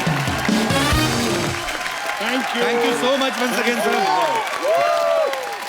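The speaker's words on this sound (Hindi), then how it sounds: "एक बार सिन्हा परिवार के लिए जोरदार तालियां हो जाएं" Studio audience of a Hindi TV comedy show applauding for a family of guests, a broad wash of clapping and cheering that runs throughout while someone speaks over it.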